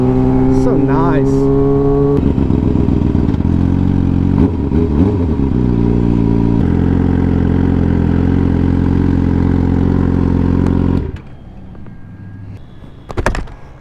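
A motorcycle engine rumbles loud and close between buildings, its low exhaust note holding steady with small shifts in pitch, then cutting off abruptly near the end, followed by a quieter background and a brief clatter; a voice talks over it.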